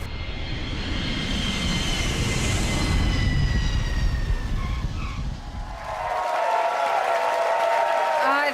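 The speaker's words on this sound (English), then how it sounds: "Clap for that." Studio audience applause from a live eviction show, a loud sustained burst of clapping and cheering that tapers off near the end as whooshing sound effects come in.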